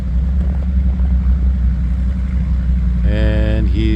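A vintage yellow Bombardier vehicle on skis drives around a shop, its engine giving a steady low rumble close by, with a voice or tonal sound breaking in near the end.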